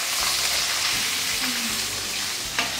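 Fish sizzles loudly and steadily in hot oil in a pan, a dense, continuous crackle with no voices.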